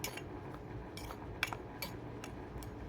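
Peas tipped into a toy cooking pot from a child's play kitchen set: several light, faint clinks and taps at irregular intervals, small hard pieces striking a tiny pot, with no talk.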